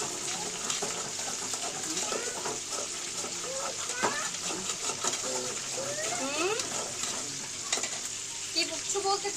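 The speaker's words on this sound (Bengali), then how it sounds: "মাছগুলো ভাজা হচ্ছে।" Rui fish frying in a pan, with a steady close sizzle and occasional stirring noises. Chirping bird or fowl calls can be heard in the background throughout.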